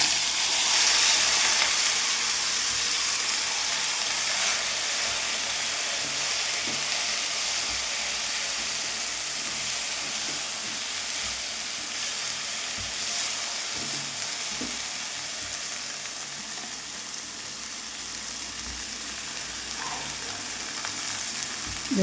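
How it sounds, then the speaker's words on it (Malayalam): A pan of mango, coconut and chili chutney powder mix roasts while being stirred, a continuous dry sizzle and hiss with faint scraping strokes, steady and close, with no voices. "മാങ്ങ ചമ്മന്തി പൊടിയുടെ ഇത് മിക്സ് കുറച്ച് നേരം ഇളക്കി കൊണ്ടുപോയി വേവിക്കുന്നുണ്ട്"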